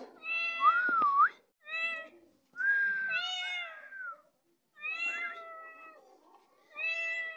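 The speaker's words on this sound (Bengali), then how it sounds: "বিড়ালটা এখন ঘরের ভিতরে ঢুকে দেখতেছে।" A cat meows indoors in a house, five clear drawn-out calls close by with short silent gaps between them and no talking.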